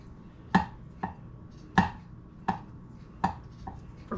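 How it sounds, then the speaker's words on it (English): Boiled eggs are chopped with a knife on a board for potato salad: six or so crisp, close knocks at an uneven, unhurried pace, alone without talk. "Just chopping up the eggs however small you like your eggs."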